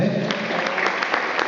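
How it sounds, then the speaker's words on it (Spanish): A church congregation applauds, a moderate, steady patter of many hands clapping at some distance, filling the short moment without speech on top. "¿Cuántos le dan una aplauso al Señor?"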